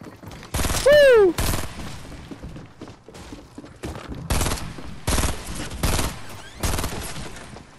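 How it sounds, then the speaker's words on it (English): Video game gunfire in loud, separate bursts spread across the clip, mixed with a whooshing pitch sweep and other game effects. "I'm shooting at these people, but I can't kill them."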